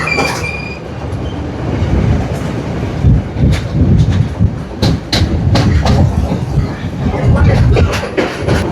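A train runs through a Colombo station in Sri Lanka without stopping, heard from on board. There is a loud continuous rumble with rhythmic wheel clatter and sharp rail clicks, with some faint voices in the background.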